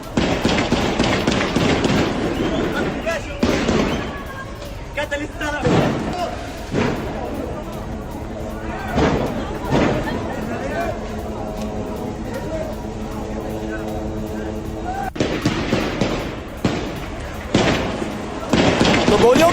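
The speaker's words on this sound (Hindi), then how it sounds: "गोलियों की आवाज, तड़तड़ाहट जो आप सुन पा रहे हैं।" Several rounds of gunfire crackle in bursts during a clash between Hamas and Palestinians in Gaza, sharp repeated reports over outdoor background noise, some loud and near, others more distant.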